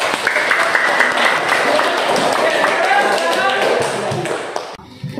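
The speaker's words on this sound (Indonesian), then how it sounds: "tepuk tangan dulu untuk" A crowd claps steadily for several seconds, a dense patter of applause that fades out near the end.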